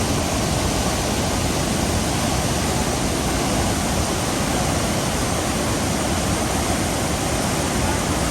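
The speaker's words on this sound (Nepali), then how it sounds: "बाढी देखिएको खोला नक्खु खोला" Flooded Nakkhu river after heavy rain in Kathmandu, rushing water through a deep gully as a loud, dense, unbroken roar filling the whole clip with no talk.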